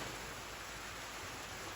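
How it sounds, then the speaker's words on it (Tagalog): Heavy rain pours down in a steady, dense hiss that stays even throughout, with no voices. "Lakas ng ulan."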